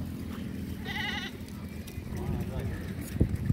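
A goat gives a short wavering bleat amid background chatter and noise at a busy goat market in Ajmer, with a thump near the end.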